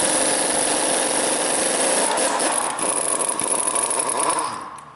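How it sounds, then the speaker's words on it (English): A 21 mm wrench works the lower rear shock bolt loose on a Chevy Cobalt during a coil spring replacement. The sound is a loud, continuous grinding and ratcheting rasp up close that fades out at the end, with no talking. "Now get a 21 millimeter and remove the lower shock bolt."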